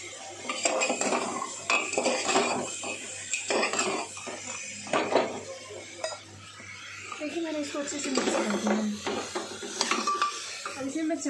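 Utensils clink and scrape against a cooking pot as rice goes in with chili powder and salt, clatters and stirring strokes repeating irregularly, close and fairly quiet.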